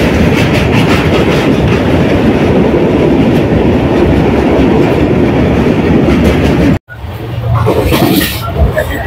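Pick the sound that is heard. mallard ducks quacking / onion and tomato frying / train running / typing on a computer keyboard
train running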